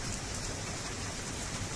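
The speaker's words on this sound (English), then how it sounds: "The rain is coming down" Rain comes down in a dense, steady hiss of drops striking surfaces, loud and even throughout, with no voices.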